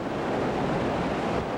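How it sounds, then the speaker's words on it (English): Floodwater rushing in through Biloxi after Hurricane Katrina, a steady broadband roar of churning water mixed with wind buffeting, continuous and fairly loud with no voices. "You see the water just flowing in."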